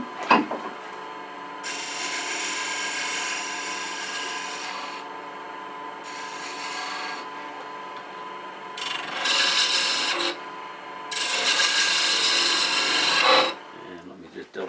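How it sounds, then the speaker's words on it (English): A 3/8 inch gouge cuts into a one-piece wooden baby rattle spinning on a lathe, giving a steady scraping rasp in several sustained bursts, the last ones loudest, with short pauses between and no talk. "I'm going to switch to a 3/8 inch gouge"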